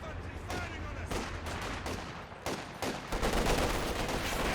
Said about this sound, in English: The double LMG guards ripping in there.